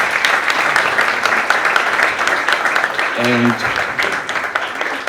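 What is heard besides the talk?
audience applause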